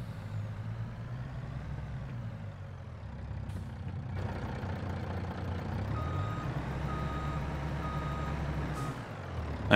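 A heavy truck reversing in Farming Simulator 22, with a steady series of regular electronic reversing beeps over a low idling engine rumble and brief air brake hisses, continuous and fairly loud, no speech.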